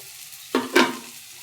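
Banana flower and potato frying in a pan with ground spice paste, giving a low sizzle that swells with two short bursts of stirring, close up and with no voices.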